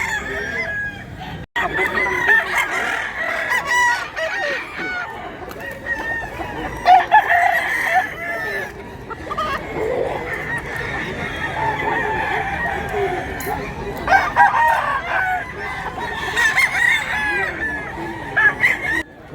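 A rooster crows several times amid clucking farm fowl, the calls repeating over steady background noise at a market or farmyard.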